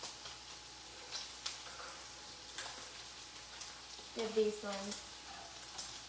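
Turkey bacon fries in a pan with a faint, steady sizzle and crackle, while a brief stir or clatter and a few quiet spoken words rise over it.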